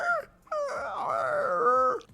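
A human voice imitates a baby griffin, producing a whining, yipping call that mixes a baby bird's chirp with a dog's whimper, rising and sustained for about two seconds, close and alone.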